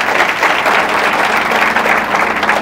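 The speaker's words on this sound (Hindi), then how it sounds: "तालियां बजाइए।" A crowd at a coaching institute's tenth anniversary event applauds, steady, loud, dense clapping from many hands that fills the whole stretch.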